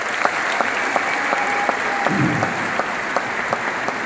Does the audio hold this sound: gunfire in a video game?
no